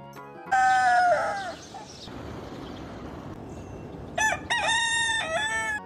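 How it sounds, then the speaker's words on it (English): Two loud crows from a hen close by, one near the start and another toward the end, with quieter background noise between them. "H for hen."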